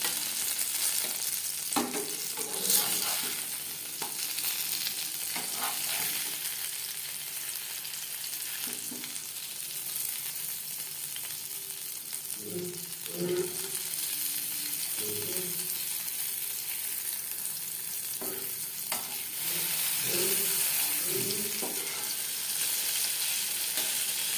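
Steady oil sizzle from eggplant slices frying in a pan, with occasional soft clinks and scraping as pieces are turned, continuous and close.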